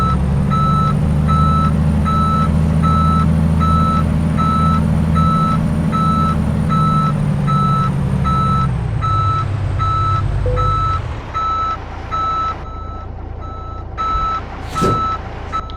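A truck in Euro Truck Simulator 2 sounds a loud, evenly spaced reversing beep over a steady engine drone, and the engine note drops partway through while the beeping continues.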